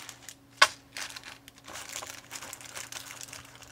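A plastic bag crinkles close by while a Spirit Island board game is unboxed, with one sharp snap early on and then soft, irregular rustling and crackling.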